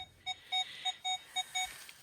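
A metal detector emits a series of about six short electronic beeps in an uneven rhythm, fairly quiet against a faint background hiss.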